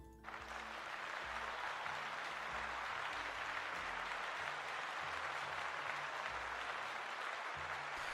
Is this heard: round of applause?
yes